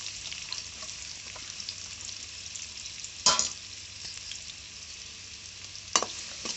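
Chopped onions fry in hot oil in a kadai with a steady, even sizzle, and two sharper clanks of stirring break through it.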